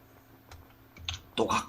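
Computer keyboard typing during a Minecraft escape game session, a brief burst of clicky keystrokes rising toward the end of the clip, fairly close and moderately loud, with faint background speech.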